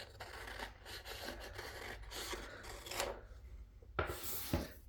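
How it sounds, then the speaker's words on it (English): Scissors cut through a paper pattern border for a durag or skull cap, giving a run of close, quiet snipping and rasping strokes with brief pauses and a couple of sharper cuts near the end. "So you cut off the right hand border"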